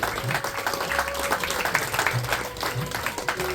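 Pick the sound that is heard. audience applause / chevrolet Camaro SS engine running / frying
audience applause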